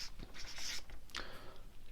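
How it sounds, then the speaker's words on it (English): Pen writing on paper while setting out a short-term financial goal, a continuous close scratching and scribbling with brief strokes, steady throughout. "We're going to write an example."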